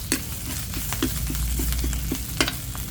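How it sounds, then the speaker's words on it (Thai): Chilies frying in a pan for a spicy pork stir-fry, stirred with a utensil: regular clinks and scrapes roughly every quarter second over a constant loud sizzle, close up, with no speech. "ล้วก็คนให้พริกหอมๆก่อนนะคะ"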